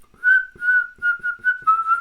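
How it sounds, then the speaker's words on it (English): A man whistles a song tune in a string of short, clear phrases with small gaps between them, alone with no talk. "I'm going around the house almost whistling."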